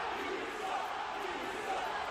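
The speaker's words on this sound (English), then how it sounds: "the crowd started booing him and chanting" A dense crowd roars and chants continuously, booing aimed at Governor DeSantis, a steady wall of many voices with no clear individual words.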